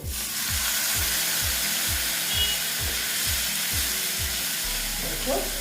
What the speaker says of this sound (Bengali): কাশ্মীরি লাল লঙ্কার গুঁড়ো দিয়ে এটাকে আমি একটু ভেজে নিচ্ছি